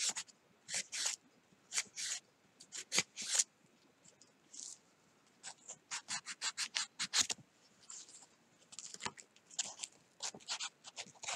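A sanding cloth rubs and scratches over a hand-carved wooden fishing lure, rounding its nose and sides in quick, quiet, irregular strokes with short pauses between, and no talking.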